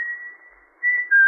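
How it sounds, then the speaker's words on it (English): A man whistles a steady, sustained tone that wavers, then rises to a brighter, louder note, close and alone, as a radio drama sound effect. "you could stand in the orchard until you heard him whistle"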